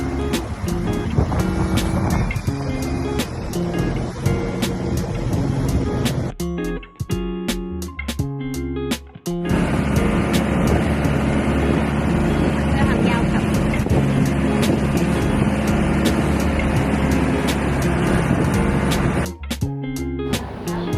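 Loud, continuous roar of a motorboat engine with rushing water on a sea trip around Phi Phi Leh, Thailand, briefly dropping out twice before resuming.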